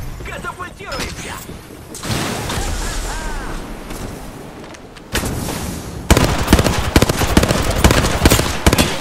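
A cluster weapon goes off in a video game with a chain of loud, rapid explosions and crackling bursts that grow denser and harder toward the end, with a voice talking over the noise.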